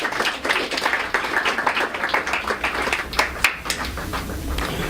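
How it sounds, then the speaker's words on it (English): Scattered applause for Cuban doctors, made of irregular moderate claps from a small group, rises and falls over several seconds with a few sharper individual claps standing out. "definitely Cuban doctors deserve a clap"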